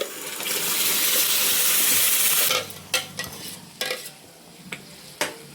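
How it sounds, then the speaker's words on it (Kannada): Ground tomato paste hits hot oil over a roasted onion tempering for tomato chutney, a loud bright sizzle for the first half, then quieter frying broken by several sharp stirring scrapes and clinks. "ಈಗ ರುಬ್ಬಿರುವಂತಹ ಪೇಸ್ಟ್, ಟೊಮೊಟೊ ಪೇಸ್ಟನ್ನು ಹಾಕ್ಕೊಬೇಕು"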